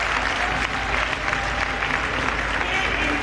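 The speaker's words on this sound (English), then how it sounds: "Let us clap for him." Conference audience applauding at an early marriage event in Freetown, Sierra Leone, a dense, steady wash of many hands clapping that stays loud and even throughout.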